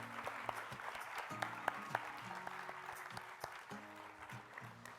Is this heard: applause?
yes